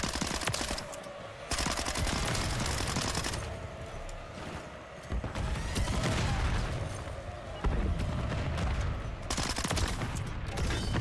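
Gunfire in Call of Duty MW3, with near-continuous rapid automatic bursts sounding loud and close, broken by brief pauses and some booming impacts, and a voice talking now and then underneath.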